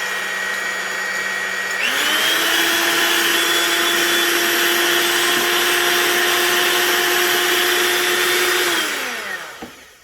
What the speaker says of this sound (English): I'm going to put in my mixer, start mixing.